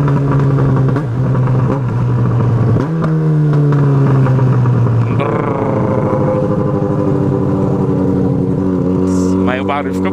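A close, loud motorcycle engine with a broken exhaust rumbles with a deep, rough exhaust note, revving up and down in surges.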